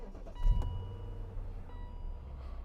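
A BMW Z8 started by push button: a brief mechanical whir and thump as the engine catches, followed by a low, steady idle rumble with faint electronic chimes over it.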